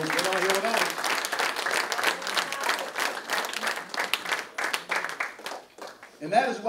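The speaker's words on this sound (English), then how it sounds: "Come on, give a round of applause to God for our ancestors" Loud, sustained audience applause fills a hall at a ceremony honoring a colonel, dense clapping continuing for several seconds with voices and cheers mixed in, tapering near the end.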